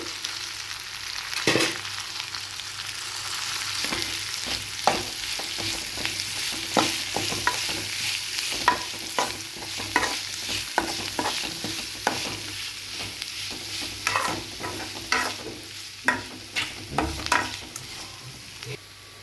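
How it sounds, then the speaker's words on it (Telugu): Spoon repeatedly scraping and stirring boiled potatoes into a salted masala in a pan for aloo dosa filling, irregular clacks and scrapes over a soft sizzle, close up with no talking. "ఇట్లా ఒకసారి మంచిగా ఇట్లా కలుపుకోవాలండి"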